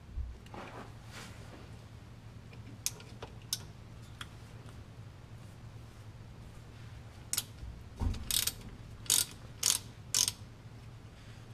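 Ratcheting clicks from a wrench working loose the 13 mm bolts on a GM 10-bolt rear differential cover, scattered sharp ticks early on, then a louder cluster of ratchet bursts near the end over a steady low hum.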